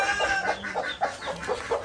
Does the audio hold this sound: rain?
no